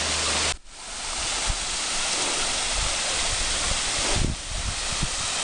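A waterfall in a jungle with wild coffee plants pours into a pool below, making a loud, steady, broadband rush that continues with only a brief dip near the start.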